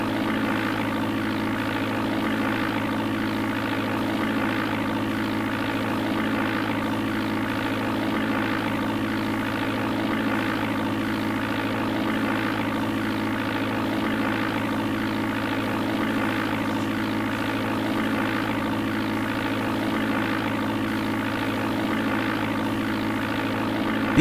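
A simulated Beechcraft Starship in the DOS game Flight Simulator 4 gives a steady, unchanging propeller-engine drone, a continuous mid-level hum with no breaks.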